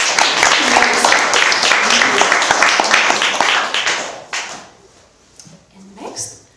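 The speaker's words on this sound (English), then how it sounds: "Let's give a round of applause to Robert" An audience at a winter music recital applauds in a dense, loud burst, mixed with voices, before it thins out into a few scattered claps and quiet room noise toward the end.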